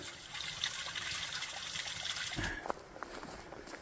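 Water trickles steadily at a small trail water source along the Pacific Northwest Trail, a continuous close splashing dribble with a brief louder gurgle near the end.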